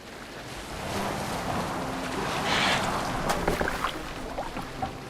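A boat moving on the sea in Assassin's Creed Valhalla: steady wash of water and waves with wind noise, a rising swell midway and small splashes, no speech.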